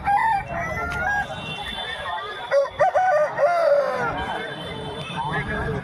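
At a busy live-chicken market, Botan Haat, roosters crow in drawn-out, wavering calls over a constant hum of crowd chatter and clucking, with one crow especially clear in the middle.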